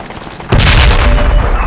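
A loud, close explosion in the Project Reality infantry shooter, a sudden boom after a short quiet lead-in, followed by a sustained rumbling tail.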